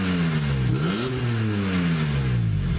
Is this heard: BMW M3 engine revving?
yes